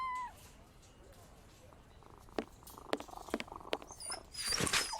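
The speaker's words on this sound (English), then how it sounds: "This cat seems to be in a sorry state." An injured cat in the video game Sherlock Holmes Versus Jack the Ripper lets out faint, plaintive meows and soft purring sounds over a quiet background, growing a little louder near the end.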